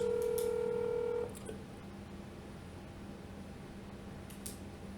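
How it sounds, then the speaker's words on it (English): Telephone dialing and call-progress tone during a cold call, heard as a steady, clear electronic tone held for just over a second before cutting off, leaving faint background hiss and a few small clicks. "So far, I've dialed 12 numbers."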